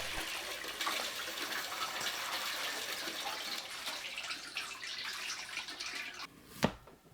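Salted yeolmu radish greens rinsed under running tap water, a steady splashing gush that fills the whole stretch, with a brief sharp knock near the end and no voices.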